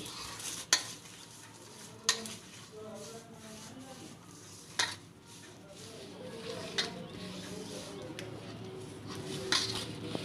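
Flour being mixed by hand with oil for mathri dough in a home kitchen, soft rubbing and stirring with a few sharp clinks of a bowl or utensil, quiet throughout.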